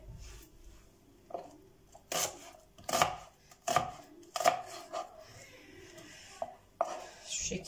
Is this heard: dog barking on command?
no